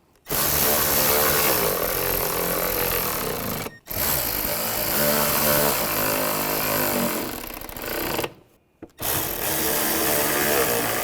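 A power tool drives thermostat housing screws on a 2008-2017 Buick Enclave: three loud, close, sustained buzzing whirs separated by brief pauses, the second run long and steady.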